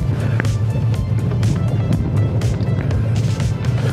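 A 2025 Ford Explorer in off-road mode rolls along a gravel road, with a steady low rumble of tyres crunching over loose stones and repeated sharp pops of gravel striking underneath, loud and continuous.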